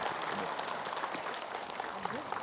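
A crowd claps steadily, a dense patter of applause filling the whole moment, with a voice faintly audible underneath.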